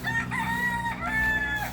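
A backyard rooster gives a loud, close crow, one drawn-out call with a clear ringing pitch over faint farmyard background, with no talking.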